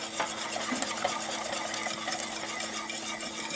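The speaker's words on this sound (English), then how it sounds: "You want this batter to be nice and smooth, so you may find yourself switching back and forth from a whisk to a spoon" Spoon or whisk stirring pumpkin sheet cake batter in a bowl, a steady close scraping and swishing that continues without pause and with no talk.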